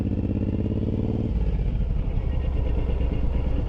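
A passing vehicle's aggressive cammed engine, heard from a motorcycle, gives a loud lumpy rumble close by that shifts from a steady throb into a rougher, choppier idle.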